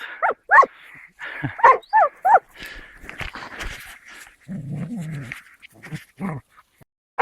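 Several hunting dogs bark and yip in short bursts nearby during a wild boar hunt, with some whining and lower growly barks in between, irregular and excited.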